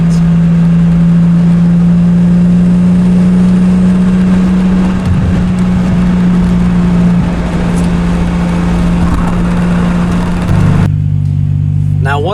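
A MKIII Toyota Supra swapped with a 2JZ-GTE Aristo engine idles loudly through its exhaust with a steady low hum, then dips and rises as the throttle is worked before the note drops at the end.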